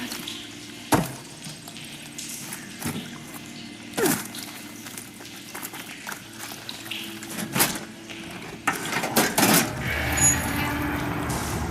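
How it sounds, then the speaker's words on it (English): Water runs and trickles through pipes in the video game Horizon Forbidden West, a quiet steady flow punctuated by sharp clanks and knocks, growing busier and louder toward the end. "Sounds like the water's switched."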